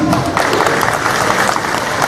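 An audience applauds at the opening of an exhibition, with dense, steady clapping from a sizeable crowd that stays loud and even throughout.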